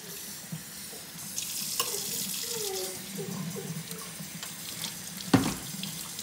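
Water runs steadily from a sink tap in a continuous hiss and splash, with a brief knock or clunk near the end.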